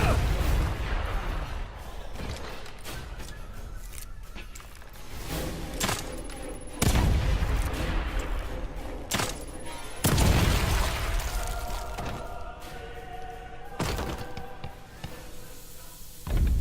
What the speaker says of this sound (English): I'm just circling around the whole time and just firing an explosive bolt at him